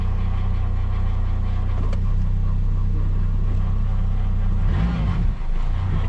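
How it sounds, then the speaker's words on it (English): A car's engine droning steadily and loudly in reverse while going nowhere, a constant low rumble with a brief rise in pitch near the end, with no talk over it. "See, I'm like revving it and it's not moving."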